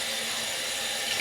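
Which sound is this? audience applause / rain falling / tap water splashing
tap water splashing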